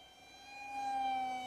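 An RCTimer FR2205 2550Kv brushless motor spinning a 6x4x3 three-blade prop at three-quarter throttle gives a steady high-pitched whine that swells slightly, heard faintly in a brief stretch without talk.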